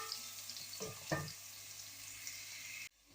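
Garlic frying in a pan for kadhi pakora gives a soft, steady sizzle with a couple of brief stirring scrapes, quiet and close, before it cuts off abruptly.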